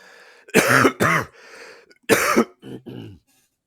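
Several harsh coughs and throat clearings come in quick clusters, close to the listener, with short pauses between them.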